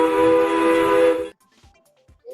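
A steady, tonal train whistle from the video game Upland blows loud and alone for just over a second, then cuts off abruptly, leaving near silence with a few faint clicks.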